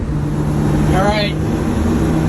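A fire truck engine runs steadily while the truck is driven, with a constant low hum and road rumble filling the cab and a brief higher squeal partway through.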